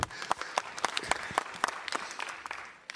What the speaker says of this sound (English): they deserve a round of applause from councillors.